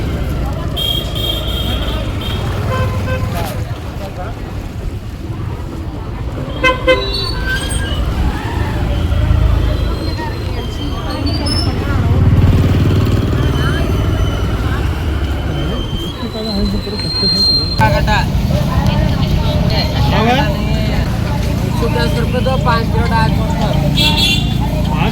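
A busy open-air vegetable market street with rumbling traffic, squealing brakes and passing vehicles, while people talk continuously nearby.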